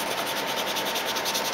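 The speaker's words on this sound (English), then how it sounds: "This is all sanding out really good, and just keep squirting it down with a little bit of water" Steady wet sanding on a plastic model submarine hull, sandpaper rubbed back and forth with water squirted on, making a close, continuous scratchy hiss with no pauses.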